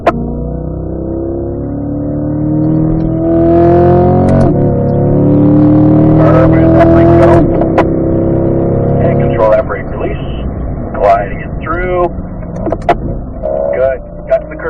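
A race car on a track runs its engine loud and close in a low gear, with steady harmonic revving that rises in pitch, then a rougher, choppier stretch later, all under continuous talk.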